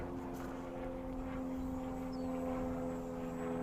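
An E-Flite 1.2 m Decathlon RC model airplane takes off at about half throttle, its steady electric propeller drone holding level and close throughout with faint outdoor background.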